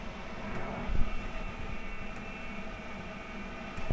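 A Webasto heater's exhaust pipe gives off a steady, broadband rushing roar with a low thump near the start. It holds at an even, moderate level throughout, with no talking.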